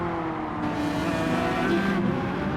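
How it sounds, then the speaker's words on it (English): An Aston race car brakes extremely heavily on track, a loud, close engine roar shifting pitch as it slows, with a brief squeal of tyres, with no speech. "there's the Aston there, braking extremely heavily"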